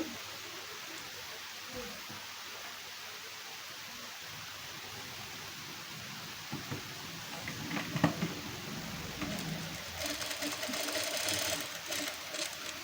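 A sewing machine stitches tucks into a fabric lining for a one-piece dress, a quiet steady mechanical whirr that picks up in bursts toward the end.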